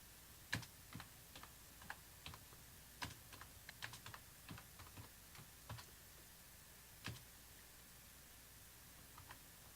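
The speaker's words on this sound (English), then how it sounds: "Let me just type this out." Quiet typing on a computer keyboard comes as scattered clicks and short bursts of keystrokes, close and faint, over a soft steady background hiss with no talking.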